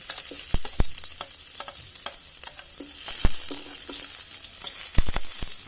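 Garlic and onion fry in hot oil in a pan, a close crackling sizzle with scattered sharp pops and utensil taps, steady throughout without speech.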